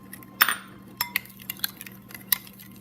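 Metal utensils clink against a bowl while BBQ marinade ingredients, including brown sugar, are mixed, giving one sharp clatter followed by several lighter, irregular taps close by.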